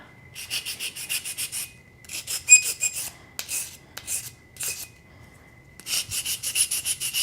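Bursts of dry, high rasping as enamel trivets are scrubbed with a sanding stick, several short strokes in clusters with brief pauses between, close and fairly loud.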